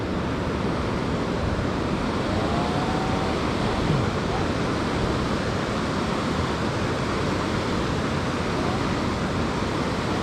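Surf rolling in continuously at Echo Beach in Canggu, Bali, a steady broadband wash of breaking ocean waves with wind across the microphone, loud and unbroken throughout.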